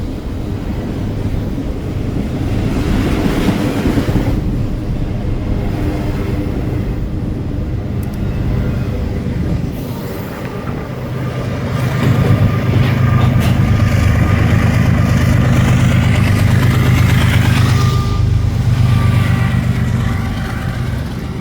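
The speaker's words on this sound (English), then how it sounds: "another BNSF intermodal, this time being led by two ES44s" A BNSF intermodal freight train led by two ES44 locomotives rumbles past near Galesburg or Fort Madison, a loud continuous engine roar with wind buffeting that swells stronger in the second half.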